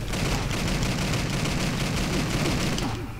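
Rapid gunfire from an enemy in the video game Driv3r, a dense burst of automatic shots with crackling impacts, loud and continuous for a few seconds before stopping abruptly.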